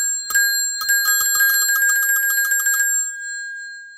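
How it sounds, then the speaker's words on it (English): A vintage rotary telephone's bell ringer, shown close up, rattles out one rapid, continuous metallic ring of about two and a half seconds, loud and alone, then stops abruptly, leaving silence. "That's how the bell would ring."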